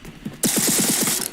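Rapid automatic gunfire in the video game RE: VERSE, a quick burst of about eight close shots over a brief hiss of noise.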